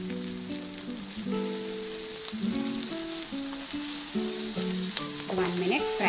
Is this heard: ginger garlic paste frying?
yes